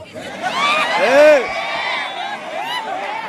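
A live stage audience at a Kannada question-and-answer show erupts in loud, sustained crowd noise, with whoops and whistles rising and falling throughout.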